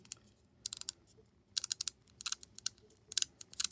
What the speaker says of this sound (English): makes a noise as you move the head, or at least mine does.